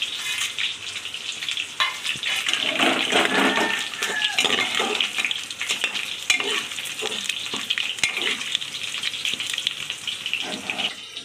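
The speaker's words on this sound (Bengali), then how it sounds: "এই দেখেন সব কিছু মশলাটা আমি এখন ঢেলে দেবো" Spice mix for a pressure-cooker mutton curry hits hot oil in a pot and fries with a loud, continuous sizzle, broken by stirring scrapes and clinks of a utensil against the pan.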